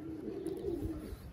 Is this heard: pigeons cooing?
yes